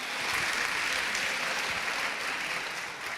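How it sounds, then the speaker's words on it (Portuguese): A church congregation claps together in a dense, even wash of applause that holds steady and fades slightly at the end, with no voices over it. "vamos aplaudir o Senhor"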